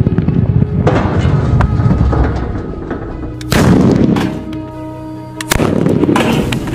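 VIP sutli firecrackers go off inside a metal safe, giving a dense run of loud, booming blasts and sharp cracks with metallic ringing, several distinct heavy bangs standing out amid continuous crackling.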